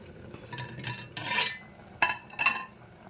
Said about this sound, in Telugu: మనము మూత తీద్దామండి.